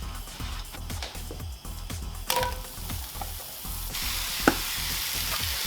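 Butter sizzles steadily in a pan on a smoker, with a constant frying hiss, some faint clinks and a brief sharp tap along the way.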